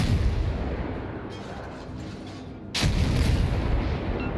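Heavy naval gun salvos from a premium gunboat in World of Warships boom continuously, with a sustained rumbling roar and a sudden louder blast near the end, no talking.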